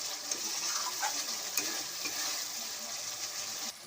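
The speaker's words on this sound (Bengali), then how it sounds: "এটা দিয়ে নেড়ে চেড়ে আমি ভালো করে কষিয়ে নেব।" Chicken curry masala with potato, a cup of water just added, frying and being stirred in a pot: a continuous bright sizzle with soft scraping stirs and a few clinks, no talking.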